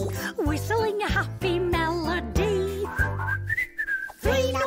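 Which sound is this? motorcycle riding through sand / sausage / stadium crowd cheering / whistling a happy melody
whistling a happy melody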